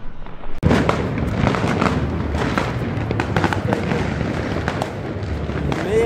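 Mega Wodka Blue 200-shot firework cake going off in a rapid, continuous barrage of loud crackling bursts and booms after a sharp initial launch, sustained throughout with voices faintly underneath.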